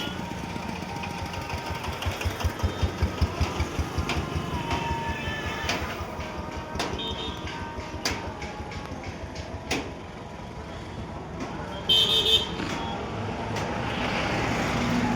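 A close, steady mechanical rumble with rhythmic pulsing from a gas-fuelled Changchai L32 engine idling, punctuated by a few sharp clicks and knocks.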